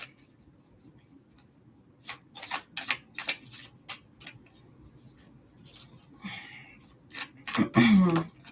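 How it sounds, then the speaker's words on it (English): Stiff tarot cards being shuffled by hand, giving a cluster of sharp, close riffling and flicking bursts partway through after a quiet start, followed by a louder clatter at the end. "I'm going to shuffle these cards."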